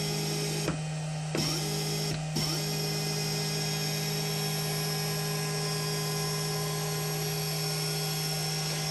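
Steady high-pitched whine of a Shapeoko 2 CNC machine's stepper motors driving an axis, a constant mechanical drone with a few short pauses and clicks near the start, fairly quiet and alone.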